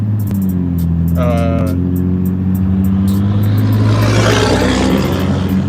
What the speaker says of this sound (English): sorry, the loud ass truck.